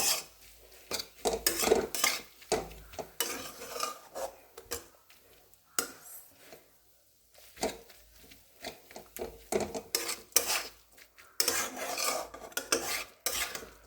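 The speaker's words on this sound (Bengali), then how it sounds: "ভালো করে মিশিয়ে আমি এখন এগুলো সব ব্রেডের মধ্যে দিয়ে দেব" A spoon scraping and clinking against a bowl while sandwich filling is stirred, in repeated bursts of rasping strokes with short pauses, close and fairly quiet, with no voices.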